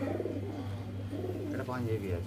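Soft, low cooing from pigeons close by, repeated throaty coos over a steady low hum.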